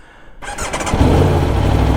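A 2021 Aprilia Tuono motorcycle engine cranks and catches, rising quickly into a loud, rough idle close by, with a brief whine at the start.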